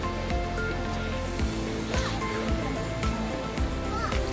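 Heavy rain pours down in the Mossman Gorge rainforest, a steady dense wash of noise throughout with scattered louder drops and splashes close by.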